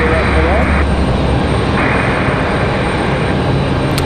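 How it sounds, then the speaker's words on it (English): A privately owned Pilatus PC-24 business jet on final approach into Raleigh-Durham International Airport, producing a loud, steady broadband roar that holds throughout with no break. "Again, we got that Pilatus PC-24 on final."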